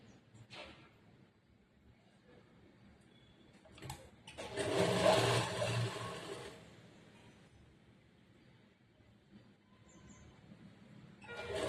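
A sewing machine runs a straight line of stitching along churidar semi-patiala pants, one steady burst of a few seconds in the middle with quieter room noise before and after.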